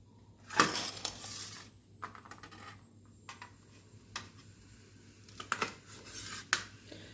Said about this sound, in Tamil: கொத்தவரங்காயை கட் பண்ணி எடுத்தாச்சு